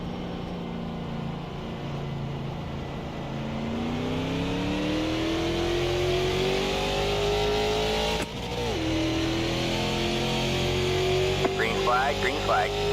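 NASCAR Cup race cars in a racing video game accelerate at the green flag, a loud, sustained engine drone rising in pitch through a gear shift, with a brief faint voice near the end.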